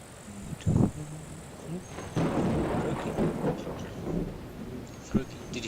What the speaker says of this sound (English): Did you hear that thunder?